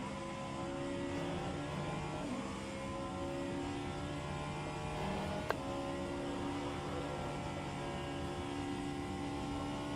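Vanwall hypercar engine in rFactor 2 at Road America, a steady sustained drone with layered harmonic tones holding fairly constant, loud and continuous with a brief sharp click midway.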